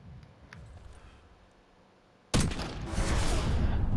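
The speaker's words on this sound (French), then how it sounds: "une balle de snipe dans la tête" A single loud sniper rifle shot in Black Ops 6 cracks out suddenly after a quiet, murmuring stretch, followed by a sustained burst of gunfire and noise.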